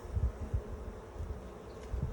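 Honeybees buzz around an open hive during an April inspection, a low, fluttering hum that swells in soft pulses as individual bees pass close, fairly faint overall with no speech.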